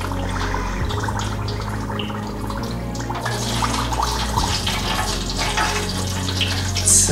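A bread bowl fries in hot oil for a Caesar salad, giving a continuous close sizzle and bubbling crackle with a low hum underneath.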